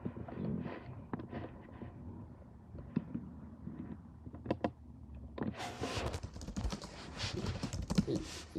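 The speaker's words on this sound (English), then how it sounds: "I'm typing and texting at the same time." Computer keyboard typing comes through as scattered soft clicks and short bursts at first, then a denser flurry of rapid keystrokes near the end, close and with no talk over it.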